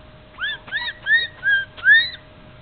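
A bird whistles back to a toddler in five clear, rising chirped notes, evenly spaced and growing slightly louder toward the end, with a faint steady hum underneath.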